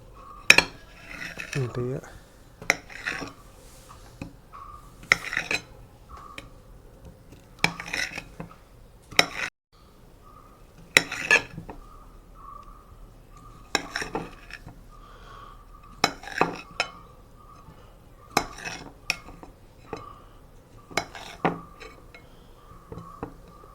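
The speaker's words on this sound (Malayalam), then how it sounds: "വെന്ത ഉരുളക്കിഴങ്ങ് ഒരു 4 ആക്കി കട്ട് ചെയ്യുന്നുണ്ട്" A knife cuts boiled potatoes into quarters for chicken majboos and crispy potato wedges, giving sharp, regular knocks of the blade on a board, close and fairly loud, alone with faint clinks of kitchenware between strokes.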